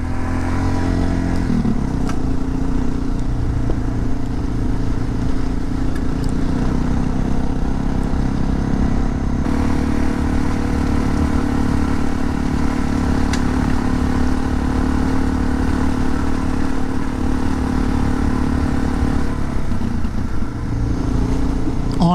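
A motorcycle riding over a chunky gravel back road, its engine droning steadily close by with loose rattling and crunching from the tires, continuous throughout.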